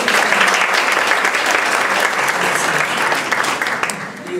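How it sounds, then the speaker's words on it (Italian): Audience applause at a call center inauguration in Vitulazio, welcoming the town's mayor: loud, steady clapping that holds for several seconds and fades slightly toward the end. "lo salutiamo chiaramente con un applauso"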